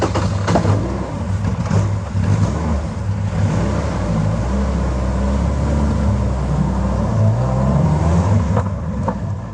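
A Caterham 420R engine runs steadily with a low, loud rumble that swells as the car pulls away on the road, close by and continuous, with no voices.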